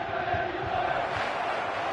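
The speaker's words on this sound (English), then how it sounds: "Well, the crowd clearly like what they just saw." A stadium crowd roars in a football video game, a dense, steady wash of cheering that stays loud and even for a brief moment.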